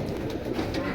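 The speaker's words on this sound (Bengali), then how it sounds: "ঘরে বাহিরে অনেক কবুতর" Many pigeons kept in cages coo in a soft, continuous low rumble of overlapping calls, close and moderately loud, with no speech.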